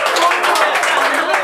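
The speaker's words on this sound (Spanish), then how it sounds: "fuera un aplauso para el público en vivo que se está apoyando" Live studio audience clapping in a dense, steady burst of applause that fills the whole short stretch, loud and close.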